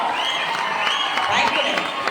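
A crowd at a Labour Day stage event held by a Tamil society claps in a dense, steady wash of applause, with raised voices and cheers mixed in throughout.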